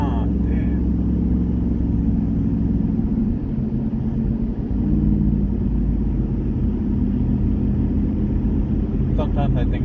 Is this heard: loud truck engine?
yes